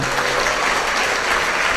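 A congregation claps hands together in steady, dense applause at a church gathering, loud and unbroken for the whole moment.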